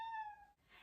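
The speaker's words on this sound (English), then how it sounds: "if you hear meowing over my voices" A house cat gives a single drawn-out tonal meow, quiet and indoors, trailing off before a soft rustle.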